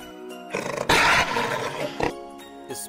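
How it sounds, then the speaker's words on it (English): A big tiger gives one loud, close roar that swells quickly, holds raspy and powerful, then fades into a growl, followed by a short second snarl. "Big size tiger."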